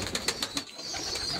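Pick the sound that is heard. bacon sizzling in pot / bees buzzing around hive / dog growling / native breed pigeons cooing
native breed pigeons cooing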